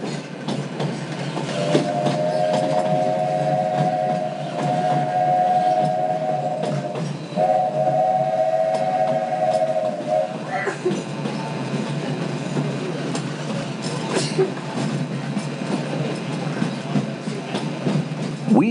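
The Walt Disney World Railroad train rolls steadily on its tracks, with a long two-tone whistle sounding twice near the start amid continuous rumbling and clatter.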